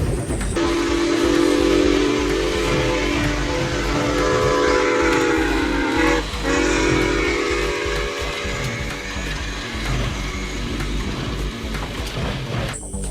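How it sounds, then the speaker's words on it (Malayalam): A train rumbles past steadily, with clattering wheels and a sustained horn blast partway through, loud and close throughout. "ദൂരെ നിന്നും ഒരു ട്രെയിൻ കടന്നു വരുന്നുണ്ടായിരുന്നു"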